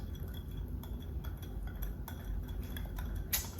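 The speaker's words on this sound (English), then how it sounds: "So you're just gonna mix it until the sugar gets dissolved with the tomato sauce." Spoon stirring sugar into tomato sauce in a home kitchen, a steady run of soft scraping and light clinks against the bowl, close and fairly quiet over a low background rumble.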